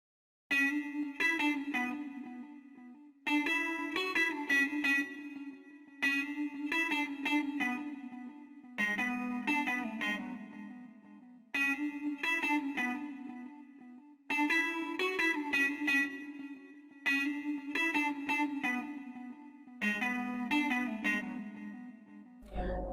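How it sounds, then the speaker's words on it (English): Jazz archtop guitar virtual instrument playing a simple repeating melodic phrase in a music production setup, with clean plucked notes and chords in steady bars, a touch of chorus and reverb, quiet and without voices. "this is Evolution Jazz Architop, because it's another library from Evolution"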